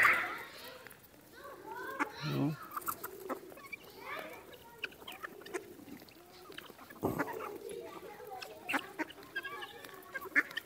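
Ducks quacking and squawking in short bursts nearby, mixed with hens and other birds at a mini zoo during feeding, while a person talks over them.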